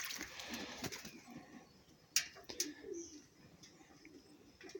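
Oriental Frill pigeons cooing in a loft, soft low coos close by with a couple of sharper chirps and light rustling, fairly quiet, no talking.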